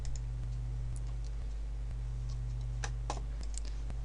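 Sharp, isolated clicks, likely from a computer mouse pressing the Next button during a Windows 7 installation, spaced about every half second against a steady low hum, with a few brighter taps near the end.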